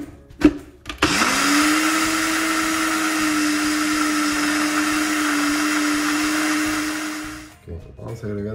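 A blender grinds basil for Genovese pesto, a loud steady motor whir with a sustained tone running about six seconds after a brief start, then cutting off; short clatter of handling before and after.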